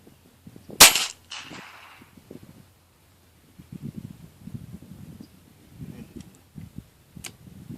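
A single sharp rifle shot cracks out, followed by a fainter distant report, with rustling and faint movement noises filling the gaps.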